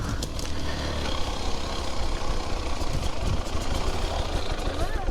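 Several enduro motorcycles revving hard in a group, a continuous dense engine roar close by, holding steady and loud throughout with slight surges.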